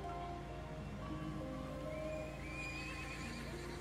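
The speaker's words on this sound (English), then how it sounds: "I think that's a horse from the sound." A horse from the video game Ara Fell neighs and whinnies over a steady background hum, the call rising and wavering before fading out.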